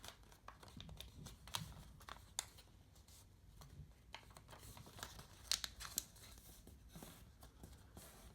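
Sheet of origami paper being folded in half and creased for a Golden Snitch model, faint soft crinkles and scattered sharper rustles and taps at irregular intervals, close and quiet with no talking.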